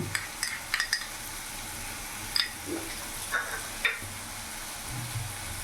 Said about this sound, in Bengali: ভালো করে মশলাগুলো ভালো করে মিশিয়ে নিলাম আর এখানে আদা রসুন লঙ্কা পেস্ট আমি দু চামচ মতো নিয়েছি